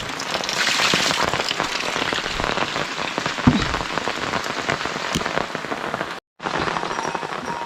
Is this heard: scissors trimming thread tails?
no